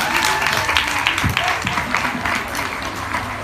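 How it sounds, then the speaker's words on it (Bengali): An audience applauding at a Durga Shashti stage program, a dense patter of clapping under an amplified voice announcing performers, with a few sharper individual claps standing out. "সায়নী বিশ্বাস, পিয়াল রায়চৌধুরী, একটু জোরে হাততালি প্লিজ"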